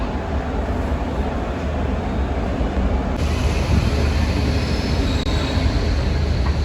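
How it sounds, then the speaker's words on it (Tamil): A passenger train leaving a station in India, heading to Thiruvananthapuram, rumbles loud and close in a continuous roar of wheels and carriage noise as it gathers speed. "ட்ரெயின் இப்போ அது கிளம்பிட்டு"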